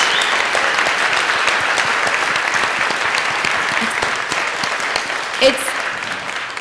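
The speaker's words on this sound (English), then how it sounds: "Can we give all of those people a round of applause?" Applause from a live monthly community event audience, a dense steady wash of clapping lasting throughout, with a few scattered voices and a brief cheer near the end.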